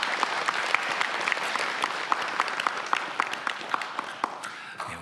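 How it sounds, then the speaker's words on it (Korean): Sunday worship congregation at a Korean church breaks into applause of praise, many hands clapping in a full, crisp wash with individual claps popping out, tapering at the end. "우리 하나님께 영광의 박수 올려드리겠습니다"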